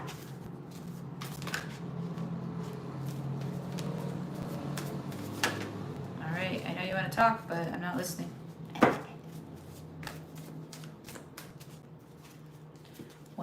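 A deck of tarot cards is shuffled at length in soft, papery riffling bursts under a quiet voice, with a few sharper knocks and clicks as the cards are handled.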